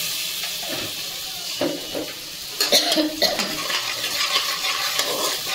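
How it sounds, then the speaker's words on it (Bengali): A spoon stirs pomfret fish curry in a pan, scraping and clattering against the metal over a low sizzle of frying spices, building to a busier stir midway, close and clear with no talking. "নেড়ে চেড়ে নেবো আবার"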